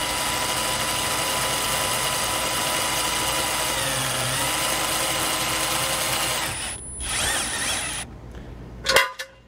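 A Trailer Valet JXS trailer jack is lowered with a powered attachment, giving a steady, loud mechanical whir that runs continuously before slowing and stopping, followed by a few clicks and knocks near the end.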